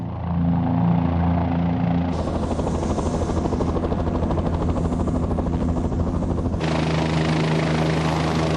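A military Kiowa reconnaissance helicopter flies close by with a loud, continuous rotor throb and engine whine, the tone shifting as it moves past, with no voices.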